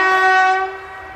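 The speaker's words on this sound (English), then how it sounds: "There's a train track behind me. Jesus, that was loud." A train passing on a track close by in an English cathedral city sounds one loud, sustained horn blast that fades slightly toward its end.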